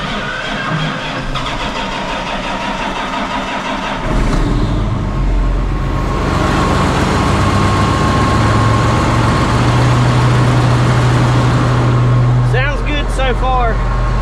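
Farm tractor engine idling steadily after a rear main seal repair, a low continuous mechanical rumble that rises slightly partway through, with faint speech early on.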